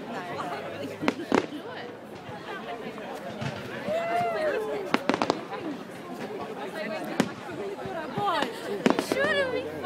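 Fireworks crack and pop repeatedly at a Bonfire Night celebration on 5 November, sharp bangs scattered through the scene while a crowd chatters and people talk nearby.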